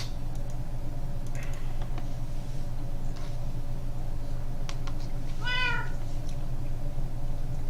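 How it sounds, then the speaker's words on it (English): A cat meows once in the Minecraft video game, a short, wavering in-game mew over a steady background hum, with scattered keyboard typing clicks around it. "So I brought one of my cats to the new area."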